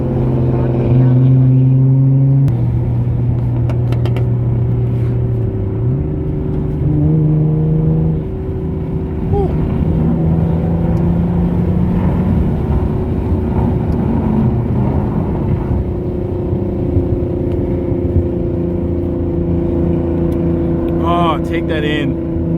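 A loud Genesis Coupe drives on city streets, its engine droning steadily with rising and falling revs and gear shifts, heard from inside the car, while people talk over it at times.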